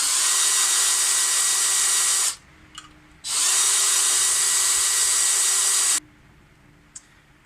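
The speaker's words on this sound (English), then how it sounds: "I'll need to drill these slightly just to make sure LEDs actually fit in." Power drill enlarging holes slightly so LEDs fit, for a homemade electronic heating oil gauge: two loud sustained whirring bursts, close up, separated by a short pause, then quiet.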